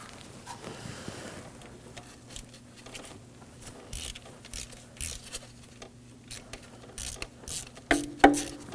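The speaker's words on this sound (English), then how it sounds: "remove this sensor bolt with a 10mm" A ratchet backs out a 10mm camshaft position sensor bolt on the 1.5L engine of a 2018-2024 Chevrolet Equinox, clicking in quick repeated bursts that grow louder near the end, close up and with no talking.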